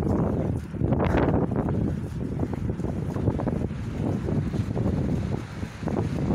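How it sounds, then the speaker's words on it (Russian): Strong wind roars and buffets steadily against the microphone, with gusty surges and a broad rushing noise throughout; no voices. "Какой ветер сильный."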